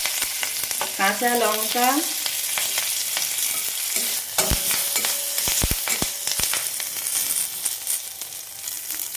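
Mustard seeds and curry leaves crackle and sizzle in hot oil while palong dhokla is cooked, with a brief spoken phrase early on and sharp spattering pops scattered through the steady frying hiss.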